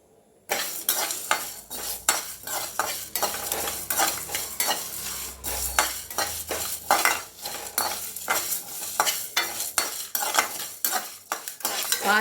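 Whole biryani masala spices are dry-roasted in a hot kadai, with steady scraping and stirring from a metal spatula, rattling spices and a soft sizzle, close and continuous with no talk.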